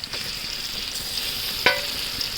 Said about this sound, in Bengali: পেঁয়াজের লগে এখন ভালো করে এটা ভেজে নিতে হবে